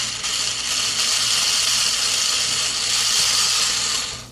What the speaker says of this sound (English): So we're going to drill a small hole.